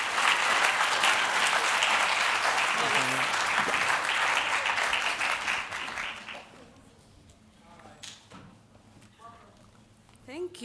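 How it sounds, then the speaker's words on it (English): A crowd applauds a speaker as she is introduced, with loud, full clapping for about six seconds that drops off into a quieter room with scattered sounds and a voice at the end. "Give a round of applause for our next speaker,"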